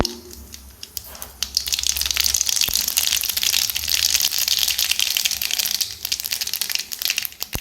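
Mustard seeds spluttering and popping in hot sesame oil, a dense crackling sizzle with sharp pops that holds steady throughout, close and fairly loud, with no voices.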